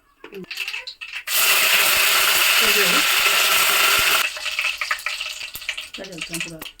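Cumin and mustard seeds sizzle and crackle loudly in hot oil for a few seconds, with quieter kitchen sounds before and after.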